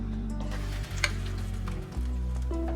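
Vegan frittata mix with courgettes sizzles in hot oil in a pan, a quiet steady frying hiss with a faint stove hum underneath and one small crackle.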